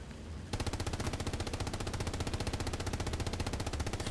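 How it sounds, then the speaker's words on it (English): A medium tank's HE cannon fires in a video game tournament match, a loud, fast unbroken string of rapid mechanical bursts that starts abruptly and keeps a steady rhythm to the end. "That is an HE cannon, and that's a medium tank."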